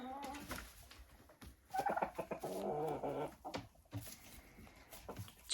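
Domestic turkeys and young roosters cluck and gobble nearby in short, uneven bursts of calls, fairly faint, with a voice briefly heard among them.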